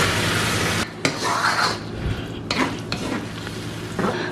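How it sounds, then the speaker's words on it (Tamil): Deviled fish being stirred with sauce in a pan, with a spoon scraping against the metal over a steady sizzle, loud and close, with no talking. "இப்போ இதை நல்லா மிக்ஸ் பண்ணி விடுங்க"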